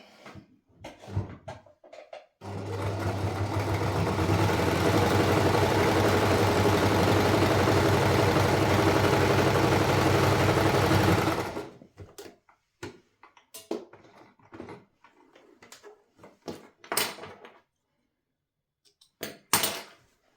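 Sewing machine stitching a kitchen scarf, one continuous steady whirring run of about nine seconds, framed by quiet handling clicks before and after.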